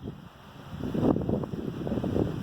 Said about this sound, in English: Oh, another gust of wind.